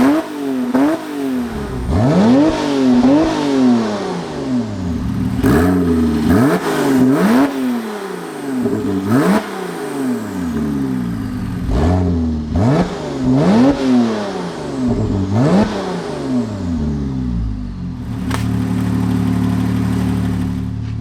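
A Porsche 911 Turbo with a straight-piped exhaust revs again and again up close, loud rising and falling blips in a rough rhythm before settling into a steady idle.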